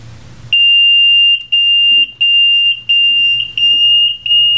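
An Interscan ECS 4000 gas-detection instrument sounds its alarm: a loud, piercing, steady electronic tone that stutters with brief gaps and pulses, heard close and alone after a faint hum.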